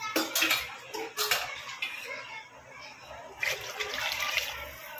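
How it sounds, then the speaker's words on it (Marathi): Water splashing and pouring into a cooking pot for chicken biryani in short bursts, a gurgling rush that stops and starts again, heard close up. "चिपचिपीत मी पाणी घालून घेते याच्यामध्ये"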